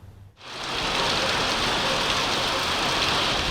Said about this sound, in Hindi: आज भी लाहौर में बादल खुलकर बरसे।